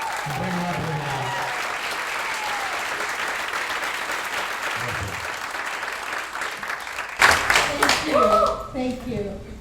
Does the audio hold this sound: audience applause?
yes